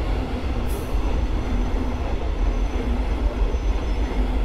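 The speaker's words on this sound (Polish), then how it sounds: "Pociąg osobowy przyspieszony Radomiak do Skarżyska Kamiennej" Passenger train rolling through Warszawa Powiśle station in Warsaw, a steady loud rumble of wheels and cars throughout, with a brief high squeal near the start and no talk.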